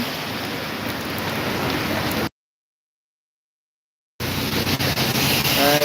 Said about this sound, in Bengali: এই বৃষ্টি মাখা পরিবেশে আছি